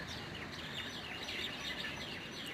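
Sparrows chirping on a balcony garden: faint, rapid, overlapping high chirps repeat steadily over a soft background hiss.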